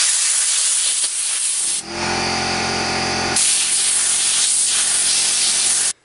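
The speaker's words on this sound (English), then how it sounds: "So we're going to go ahead and spray this off." Loud bursts of aerosol cleaner spray hiss in long sustained blasts onto a chainsaw, one after another, with a brief mechanical whir between them and no talking.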